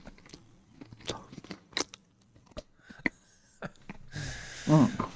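Someone bites and chews a cookie close to the microphone, with crisp crunching bites, then a louder burst of munching near the end. Quiet sniffs and murmured talk sit between the bites.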